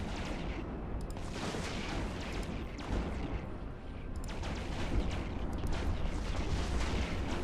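Sentry guns and other weapons fire in rapid, overlapping bursts during a video game firefight, a thick, continuous clatter of shots with occasional heavier impacts.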